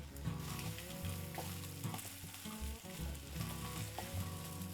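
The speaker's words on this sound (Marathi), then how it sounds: "तर मिनिटभर या भाज्या फ्राय करायच्या." Vegetables fry in a pan for Maharashtrian tondli rice, making a steady, loud sizzle with stirring scrapes throughout and no talking.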